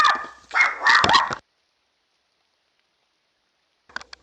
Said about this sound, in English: Sorry for that barking.